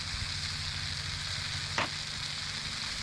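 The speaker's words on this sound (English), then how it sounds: "we're just going to give this a stir" Food sizzles steadily in a frying pan as part of a burger, beans and corn meal, with a brief scrape of stirring partway through; quiet and continuous, no talking.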